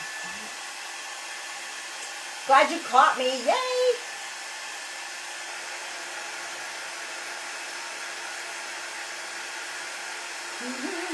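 A hair dryer drying paint blows with a steady, even whoosh throughout, while a person briefly speaks over it.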